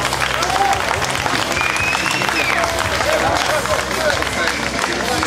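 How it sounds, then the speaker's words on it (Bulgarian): Audience applause at a powerlifting bench press tournament, steady dense clapping from a crowd filling the room for several seconds, with some background chatter mixed in. "Аплодисменти за тях."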